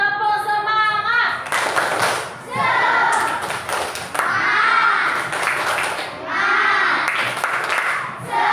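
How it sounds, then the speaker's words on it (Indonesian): A group in an Indonesian academic coaching session performs a rhythmic spirit clap: brisk bursts of sharp, patterned hand claps alternating with brief chanted phrases, loud and close. "kita bangkitkan semangat kita dengan tepuk semangat"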